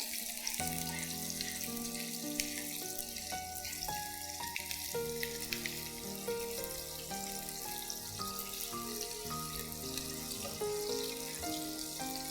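Small shallots fry in a pan after garlic goes in, a steady soft sizzle with faint clinks of stirring, no voices over it.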